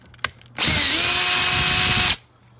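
A power drill backs screws out of a wall bracket. A click comes first, then one loud steady high whine lasts about a second and a half and stops abruptly. The sound is close and alone.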